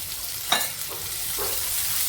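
Onions sizzle in a pan with fried cumin, a steady frying hiss broken by a sharp clink and a couple of scraping stirs.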